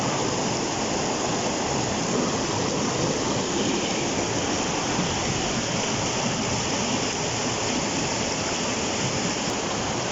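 A forest river rushes along in a steady, dense wash of flowing water, loud and close throughout with no letup and no voices.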